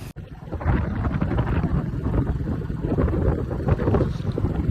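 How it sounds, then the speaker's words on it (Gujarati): A fishing boat on a dam reservoir gives a steady, low, broadband rumble throughout, mixed with gusty wind buffeting the microphone. No one speaks. "અહીંયા છે ને બોટ છે જો અહીંયા બહુ ફિશિંગ ને બધું થાય જો કેવી બોટ છે"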